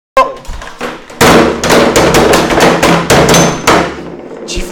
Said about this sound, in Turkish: Vur kardeşim vur affetme vur.